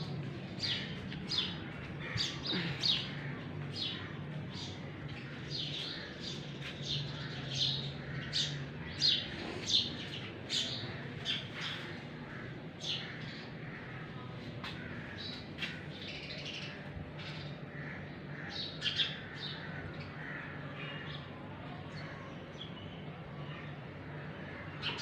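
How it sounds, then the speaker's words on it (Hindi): Many birds chirp and tweet continuously, fairly soft, with quick overlapping calls over a quiet outdoor background. "चिड़ियों ने शोर डाला हुआ है, चीं चीं चीं चीं कर रही है।"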